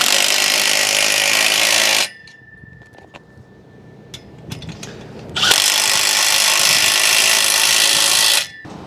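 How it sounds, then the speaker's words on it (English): A power tool tightening carriage bolts and nuts while assembling the frame of a disinfectant delivery system anchored to concrete; two loud, steady bursts of whirring drive separated by a quieter gap with light clanks and handling noises. "you're going to go through and tighten all of your"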